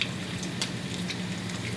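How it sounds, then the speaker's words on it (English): Food frying in a pan, a continuous crackling sizzle at close range with a few brief louder pops, heard alone without talk. "I really hope y'all can hear this sizzle."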